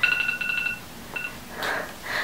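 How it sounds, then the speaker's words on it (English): A smartphone goes off with a quick run of bright electronic notification beeps, then a single short alert tone and a couple of louder chimes, all at close range in an otherwise quiet room. "Literally, my phone's going off."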